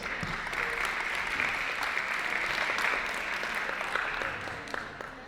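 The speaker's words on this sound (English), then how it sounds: "Please give another round of applause." An audience at a Ramadan festival interfaith dialogue applauds with a dense, steady clatter of hand claps that stays full for several seconds before gently tapering off.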